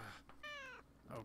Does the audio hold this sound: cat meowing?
yes